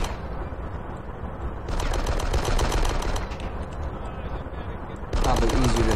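Rapid automatic gunfire crackles in bursts in the Die Hard: Nakatomi Plaza video game, loud and dense, with short pauses between volleys.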